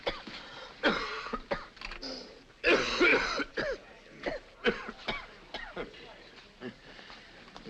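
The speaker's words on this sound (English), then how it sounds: "That is a bad cough you've got." A man coughs and clears his throat several times in a quiet indoor scene from a 1947 drama film, the bursts alternating with speech.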